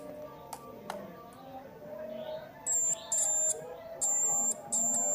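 A Redmi 4a phone buzzer under test with a multitester, giving several short, high-pitched electronic beeps in bursts during the second half, over faint background noise.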